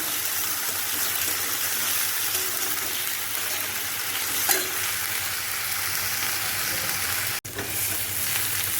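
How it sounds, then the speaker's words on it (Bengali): Steady, close sizzling of onions frying in a hot pan for egg and potato curry, a dense crackling hiss with a brief clatter partway through and no voices. "পেঁয়াজটা ভাজা হয়ে গেছে।"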